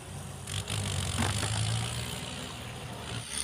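A walking tractor plows a rice field, its engine giving a steady, low, throbbing drone that stays near and continuous throughout.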